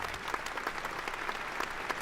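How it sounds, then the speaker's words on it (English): Applause for a guest on a podcast studio stage, steady dense clapping with scattered sharper claps, close and fairly loud, running throughout without speech. "knock off the applause"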